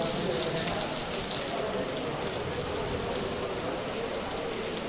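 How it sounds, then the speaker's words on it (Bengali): Heavy rain pouring down during driving practice, a dense, steady wash of hiss that stays loud and unbroken throughout. "বৃষ্টি অস্থির বৃষ্টি"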